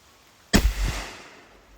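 AEA Harpoon double-barrel air pistol with short barrel firing a 315 grain projectile: one sharp, loud crack followed by a quick echoing tail, outdoors in rain.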